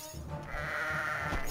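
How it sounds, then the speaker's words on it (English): A cartoonish goat bleat from the Kingdom Rush tower-defense video game, a single wavering call lasting over a second, clear and up front with no talk over it. "Is there a goat over here?"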